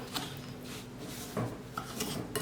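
Melted butter, 100 grams, being stirred into a milk pudding mixture for a sliced milk dessert, giving soft scraping and light utensil clinks against the bowl, quiet and intermittent with no voices.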